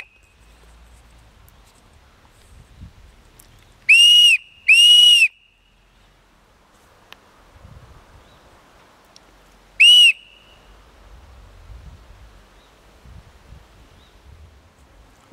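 A homemade survival whistle blown in three sharp, piercing shrill blasts, two close together then one more, against a quiet outdoor background with faint rustling.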